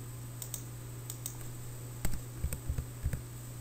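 A few sharp computer mouse clicks, faint and close over a low steady hum, with a small cluster of clicks near the end and no talking.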